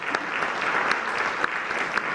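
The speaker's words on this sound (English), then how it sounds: "let's give that a round of applause" A community forum audience applauds steadily for about two seconds, a dense, even wash of clapping with a few sharper claps standing out near the end.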